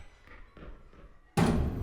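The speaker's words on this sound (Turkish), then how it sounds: "Manyak kapıyı kırdı la gençler gördünüz mü?" A monster in The Classrooms horror game smashes through a door, one sudden loud crash after a stretch of quiet dull thumps.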